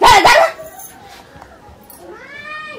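A dog in a Maithili comedy sketch gives a few loud, close barks, then falls quiet before a thin, drawn-out whine or whimper rises at the end.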